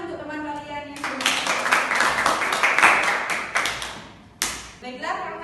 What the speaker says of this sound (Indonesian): Beri tepuk tangan untuk teman kalian yang sudah.